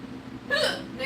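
A person hiccups once, a short soft gulp of sound rising from a low hum of background chatter indoors, fairly quiet and brief.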